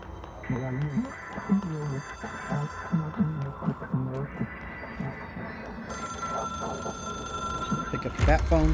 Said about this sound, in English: Pick up that phone. It is a phone.